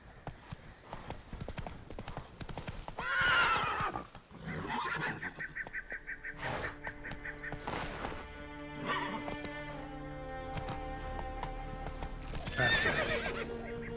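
Hooves of the horse Roach clatter in a galloping rhythm across ground in The Witcher 3, with loud neighs breaking through and game sounds layered around the running.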